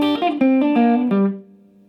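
Short guitar lick played at full speed, a quick run of picked notes with slight distortion that ends on a single sustained note ringing out and fading, alone with no talking.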